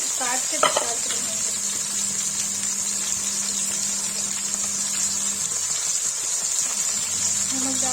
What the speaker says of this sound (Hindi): देखिए मशरूम फ्राई हो गया